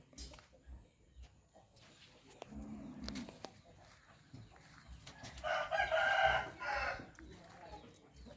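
A spotted dove coos nearby in a couple of short calls, with quiet room noise and faint background sounds around it.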